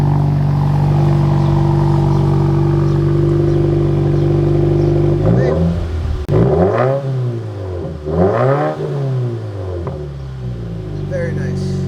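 A Subaru WRX with an axle-back exhaust and muffler delete idles low, then revs repeatedly in sharp rising-and-falling sweeps, gritty and loud up close.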